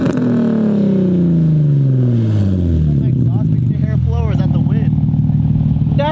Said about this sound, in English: we're finna do some revs real quick before cars come